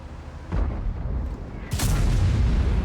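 A tank's cannon fires and its shell hits the ground in a tank battle video game, with two heavy booming blasts about a second apart over continuous engine rumble.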